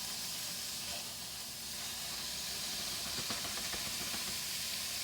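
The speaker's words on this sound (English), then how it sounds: "So I have my 2 pounds of ground beef. So I'm just going to put this, I have my pan on 4, so it should be nice and warm. You'll hear a sizzle." Two pounds of ground beef sizzling in a warm pan on medium heat, a dense, even hiss and crackle heard up close, holding steady throughout with no talking.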